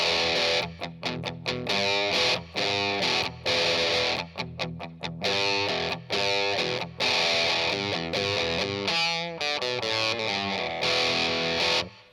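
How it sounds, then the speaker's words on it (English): An electric guitar plays through a Boss Metal Zone pedal with its distortion knob turned all the way down, still sounding gritty and saturated as loud, sustained chords and note runs start and stop in choppy phrases, with no talking. "So even with the distortion turned all the way down, it's still definitely got gain and distortion on it."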